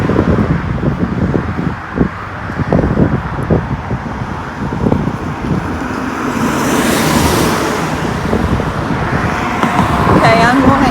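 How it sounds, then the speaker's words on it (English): Road traffic at a street crossing in North Richland Hills, Texas, with cars rushing past nearby one after another and a steady roadway hum under wind noise, while a person talks over it. "The traffic is easy."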